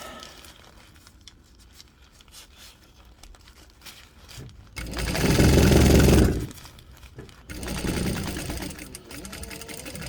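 An old, cheap Chinese sewing machine driven by a servo motor stitches a fabric stuff sack, with a low steady hum and light clatter that swell to a loud run of rapid stitching in the middle, then a second burst near the end.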